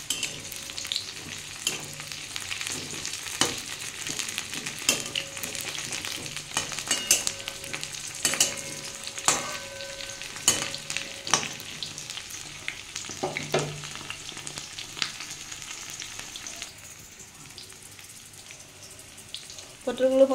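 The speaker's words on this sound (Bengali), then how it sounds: "পটলগুলো বন্ধুরা লাল লাল করে ভাজতে হবে, এখনও ভাজা হবে।" Pointed gourd (parwal) pieces fry in a pan with a steady, close sizzle, broken by repeated light clicks and scrapes as they are stirred and turned; no one speaks.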